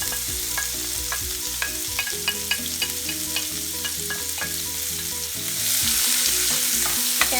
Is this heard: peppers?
yes